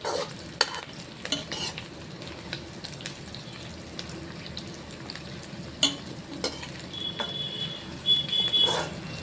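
Onions frying for coconut milk bagara rice crackle steadily in a pan while a spoon stirs with scraping and clinking knocks at irregular intervals, all close and moderately loud.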